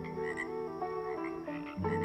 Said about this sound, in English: If at night you hear frogs sing, sunny weather it'll bring.